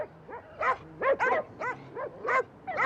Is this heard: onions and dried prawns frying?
no